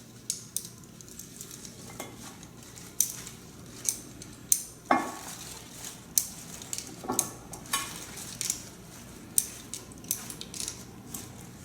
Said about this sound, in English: Just slightly toss it around.